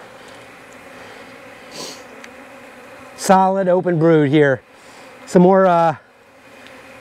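Honey bees hum steadily around an opened hive during a January brood inspection in Jacksonville, Florida, the buzzing faint and continuous beneath someone speaking close by in two bursts.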